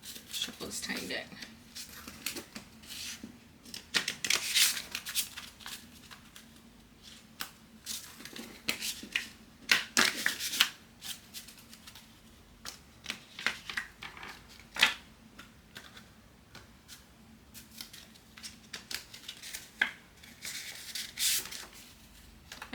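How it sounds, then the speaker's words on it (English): A tiny deck of spirit cards is shuffled in repeated short riffling bursts, close and crisp, with pauses between rounds and a faint hum underneath. "Kind of just shuffle this tiny deck."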